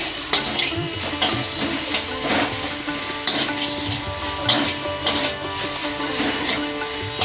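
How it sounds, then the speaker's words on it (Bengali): Capsicum and tomato fry with cumin and coriander powder in a pan, giving a constant loud sizzle broken by rhythmic stirring and utensil scrapes and clinks, with no talk. "একে একটু ভাজা ভাজা করে নেব"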